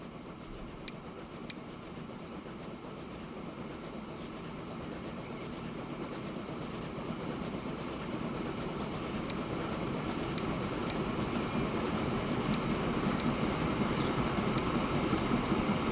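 A train running in the game Transport Fever 2, a steady rolling rumble with faint clickety-clack that swells slightly louder toward the end, heard alone with sparse high ticks over it.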